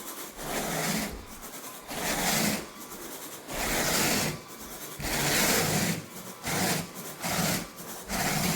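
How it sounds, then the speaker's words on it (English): Raking freshly cleaned carpet, heard as broad rhythmic scraping strokes that rise and fall about once a second, close and steady with no talking. "so we're just raking it right now."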